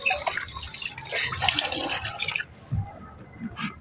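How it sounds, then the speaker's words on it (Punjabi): Water is splashed and sluiced across a goat shed floor to wash away dung and dirt, a broad hissing spray for over two seconds that then drops to softer trickles and a few separate splashes. "ਹੁਣ ਪਾਣੀ ਮਾਰ ਕੇ ਚੰਗੀ ਤਰ੍ਹਾਂ ਰੋੜ ਦੇਵਾਂਗੇ"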